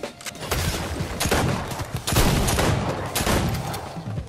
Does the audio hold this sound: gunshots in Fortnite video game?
yes